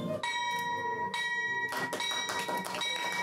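A ceremonial bell at the BRVM stock exchange rings repeatedly in clear, ringing strokes with long sustained tones, loud and close, with faint murmuring voices beneath.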